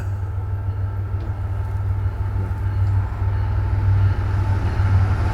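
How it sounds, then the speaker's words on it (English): An eastbound freight train rumbles past as a long, continuous low roar, steady and fairly loud throughout with no voices. "Freight train."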